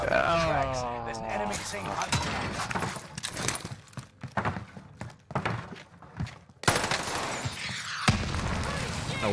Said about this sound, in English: This man is actually shooting rockets.